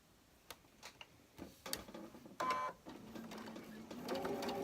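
A sewing machine stitching quilt block corners starts with scattered clicks and ticks, then runs in short whirring bursts that build into steadier stitching, quiet and nearby.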